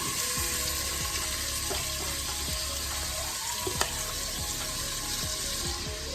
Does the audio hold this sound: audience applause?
no